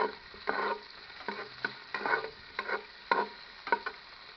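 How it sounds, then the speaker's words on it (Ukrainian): Pork fat sizzles and crackles in a well-heated cauldron over a fire, with irregular bursts of spitting and popping over a low steady fry, close up. "Казан добре нагрітий, сало швидко смажиться."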